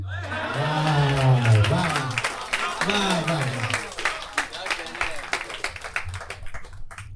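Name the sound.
audience applause at a poetry recital (mushaira)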